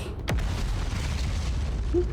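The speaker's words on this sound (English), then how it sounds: "explosions happen right above us" A deep explosion boom in the video game Outer Wilds, set near a volcano moon and a black hole: a sharp burst with a falling sweep, then a steady low rumble lasting about two seconds.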